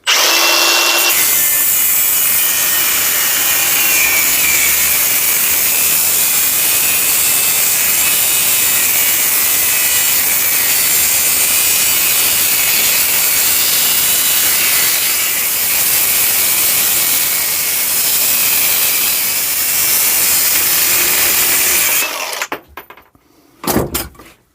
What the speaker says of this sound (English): I'm going to cut along this back edge because that one's actually shorter